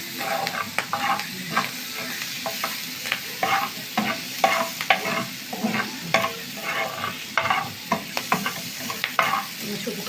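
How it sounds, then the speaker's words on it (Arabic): Lightly pre-fried shrimp are tossed and stirred in a sizzling pan, with a continuous close frying hiss punctuated by frequent rhythmic scrapes and clatters of the utensil. "نحط الجمبري اللي احنا ايه حمرناه شويه اهو"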